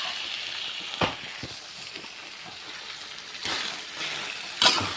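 Cabbage stir-fried with thin rice noodles and egg sizzles in a pan, a steady frying hiss broken by a few sharp scrapes and clatters of stirring.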